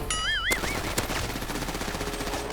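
Automatic gunfire in GTA V on a FiveM Extinction server rattles out in a rapid, continuous burst of loud, close shots after a brief electronic tone.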